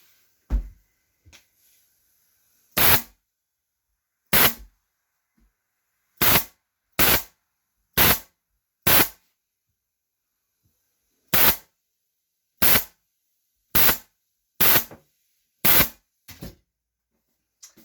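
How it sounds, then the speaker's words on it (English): An electric or manual staple gun fires staples into a kitchen chair during upholstery work, giving about a dozen sharp, loud single snaps spaced irregularly a second or two apart, with silence between shots and no talking. "So as it's firing out these little staples"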